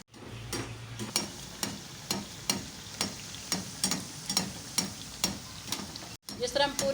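Aloo pyaaz pakoras frying in hot oil while oil is spooned over them, with regular scraping strokes about twice a second over a soft bubbling fry, briefly cut off near the end.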